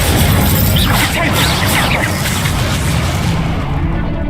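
Incendio fire spell cast in Hogwarts Legacy, a loud, dense roaring burst of flame with crackling bursts that fills the whole clip before fading slightly at the end.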